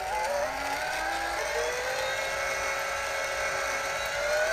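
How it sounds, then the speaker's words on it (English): A Molar X² electric coffee grinder runs steadily and loudly throughout, a continuous high-pitched motor whine with gently rising tones as it grinds beans up close. "So let's continue grinding."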